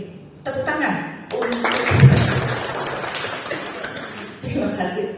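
An indoor audience at a school culture gathering applauds after a host calls for it, bursts of clapping with some chuckles between stretches of talk.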